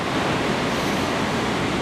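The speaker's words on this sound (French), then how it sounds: "On a cette houle longue de secteur ouest-nord-ouest qui est en hausse, 11 secondes de période et qui nous donne des vagues." Ocean waves breaking at Anglet beach on a long west-northwest swell, a steady broadband roar of surf with wind noise filling the whole stretch, loud and continuous with no voices.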